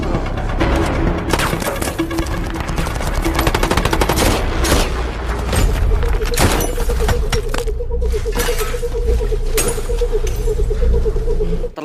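Dense, sustained gunfire from the film The Contractor, with rapid shots and occasional heavier thuds, loud and nearly continuous over a droning background.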